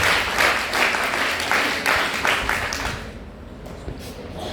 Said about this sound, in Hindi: तो तालियों से स्वागत